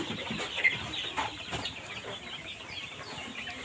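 A large batch of about 350 Egyptian Fayoumi chicks peeps and chirps in a busy hatchery, a dense continuous twittering of many small voices with occasional clucks and rustles, fairly faint and free of talk.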